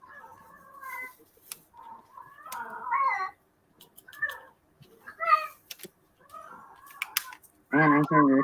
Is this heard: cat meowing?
yes